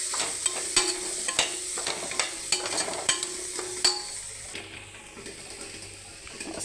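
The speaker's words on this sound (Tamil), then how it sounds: "இனி லைட்டாக எண்ணெயில் ரோஸ்ட் ஆகணும்" Garam masala roasting lightly in oil for a vegetable millet biryani, with a low sizzle under a run of regular spoon scrapes and taps against the pan that ease off partway through.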